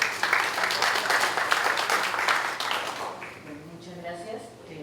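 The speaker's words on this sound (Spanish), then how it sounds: "un voto de aplausos" An audience applauds a researcher at a school-day panel discussion: dense clapping for about three seconds, then fading as a speaker begins talking.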